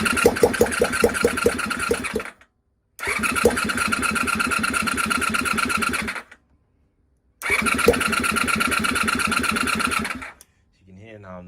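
A Honda VFR400 NC30 motorcycle engine under restoration is cranked in three long bursts separated by short silences, each a loud, close, rapid whirring chatter of the starter, with a brief catch near the end and no speech.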